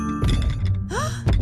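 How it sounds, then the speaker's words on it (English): Heavy cartoon footsteps land as two deep, booming thumps about a second apart, with a sliding whistle-like tone and musical ringing between them. "That's the sound of big feet."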